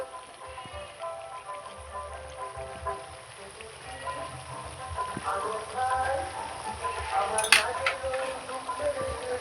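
Chicken frying with onions as ginger, cumin and garlic paste is stirred in, a crackling sizzle with scraping spoon strokes against the pot, growing busier toward the end, and a voice talking faintly underneath.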